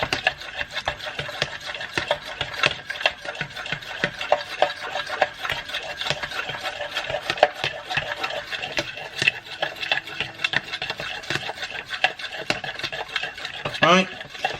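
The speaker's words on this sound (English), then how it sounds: "grab a fork. And we whisk it all together." A fork whisks eggs in a bowl for a scrambled egg sandwich, fast, steady scraping and clinking that runs on continuously at close range.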